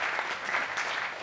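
A live audience at an Italian comedy podcast show claps in a brief burst of dense, even applause, moderately loud and without voices.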